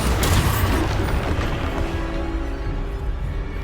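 A Bombarda blasting spell detonates in Hogwarts Legacy: a loud, booming explosion at the start that rolls into a sustained rumbling blast and debris noise, tapering slightly over a few seconds.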